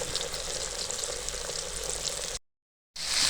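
Korean-style chicken wings for sweet and sour fried wings fry in hot oil with a steady, close sizzle. The sound cuts out briefly, then returns with a brighter, louder crackle as more pieces go in.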